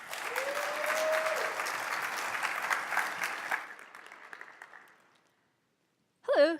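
Conference audience at PyCon 2017 applauding a speaker, steady clapping that thins and fades over about five seconds into silence, then a brief voice near the end.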